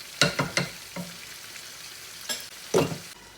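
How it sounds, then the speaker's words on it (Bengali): Fish frying in a pan for a curry, with several sharp sizzling bursts and splatters spaced irregularly, close but fairly quiet against a soft background hiss. "মাছটাকে ঘুরিয়ে দিচ্ছি, চতুর্দিকে খালি ছিটা পড়ছে।"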